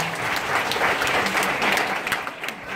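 A church congregation at a prophet's service in Dar es Salaam applauds for Jesus Christ, a dense, steady wash of many hands clapping at once, sustained and fairly loud.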